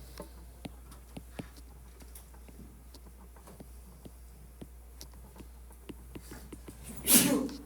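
Faint clicks and taps tick along steadily until one short, loud sneeze bursts out near the end of a quiet room recording.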